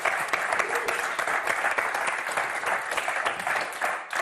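A studio audience at the French game show Motus applauds the contestants with loud, sustained clapping that fills the whole moment without a break.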